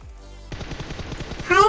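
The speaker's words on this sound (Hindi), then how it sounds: "अब मैं यहाँ पर भाई गोला बारूद ढूंढने लग रहा था तो उस साइड से फायर हुई" Rapid gunfire bursts out in the video game PUBG, a quick rattling string of close shots after a brief low hum, ending in a louder crack.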